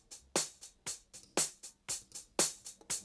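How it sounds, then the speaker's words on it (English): Crisp, bright hi-hat loop with a lifted top end, sharp closed ticks and a few longer open-hat hits in a steady groove, close and alone. "Then we got this extra hi-hat loop"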